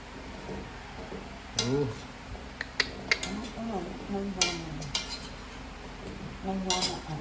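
A utensil stirs ginataan vegetables, a Filipino coconut-milk dish, in a large uncovered pan, giving irregular metallic scrapes and clinks close by while someone talks over them.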